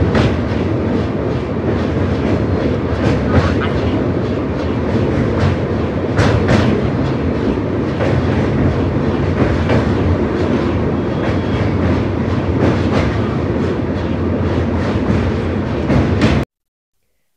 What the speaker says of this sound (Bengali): চায়ের কাপে চুমুক দেওয়া মাত্রই ট্রেন ছুটে চললো আমাদের গন্তব্যের দিকে